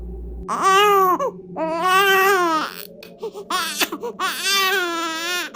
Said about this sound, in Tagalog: Yung tunog nila hindi normal na miyaw ng pusa. Parang iyak ng sanggol.